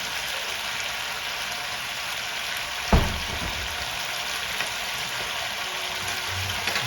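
Ginger garlic paste fries for a Nepali-style chicken curry, giving a steady, loud sizzle throughout with a single sharp knock partway through, no voices.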